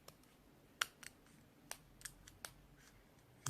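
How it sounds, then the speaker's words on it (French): Scissors snipping small notches into a drinking straw, heard as a handful of sharp, quiet clicks spaced irregularly, close up in a still room. "On reprend la paire de ciseaux et on taille 2 petites encoches."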